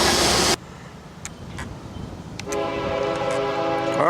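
Freight train M503 rolling northbound at the south end of Pembroke on the Henderson subdivision, heard outdoors at a distance: a loud burst of horn at the start, then a low rumble of cars passing with a steady drone and faint squeal.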